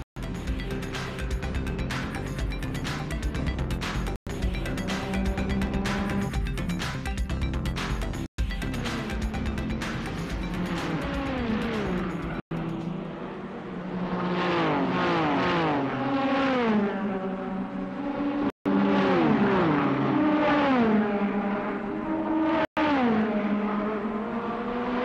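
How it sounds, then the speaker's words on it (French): Porsche 956 race cars at the 1983 Le Mans 24 Hours roar past in loud, continuous engine noise, with rising and falling pitch sweeps as cars accelerate and pass by, and no talk. "talonné par une autre 956, celle de Volek, Johansson et Ludwig"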